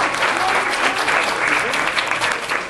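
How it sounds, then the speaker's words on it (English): Audience applause at a convention costume contest: steady, dense clapping from a crowd that fills the room, with some voices mixed in. "So let's hear it for Brian"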